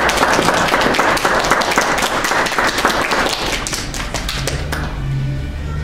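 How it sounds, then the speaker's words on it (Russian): A room full of people applauds at the opening ceremony of the Ukrainian Cup final in free pyramid billiards, junior group, at the Olimp club: loud, dense, continuous clapping that thins out over the last second or so. "Аплодисменты."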